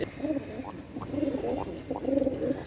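Pakistani pigeons, a red-necked male pair from Khulna, coo in soft, low, rolling phrases with brief rising notes, repeated several times at close range and fairly quiet.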